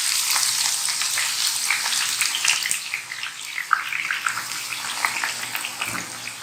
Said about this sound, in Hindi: हमने ऑयल को अच्छा सा गर्म कर लिया है पहले से। अब हम इसमें ये आहिस्ता से बिल्कुल एहतियात के साथ ये ऑनियन जो है इसमें हम ऐड करेंगे।